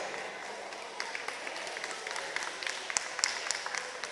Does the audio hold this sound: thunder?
no